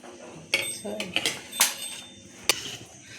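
A glass knocks and scrapes against a metal pot while mashing cooked lentils, giving a few sharp clinks and short scraping rubs, fairly close and quiet.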